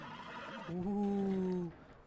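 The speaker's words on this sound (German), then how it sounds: "Drücke Viereckli, um das Pferd zu beruhigen." A horse in Red Dead Redemption 2 whinnies once, a rising then steady drawn-out neigh lasting about a second, clear and fairly close over a faint background hum.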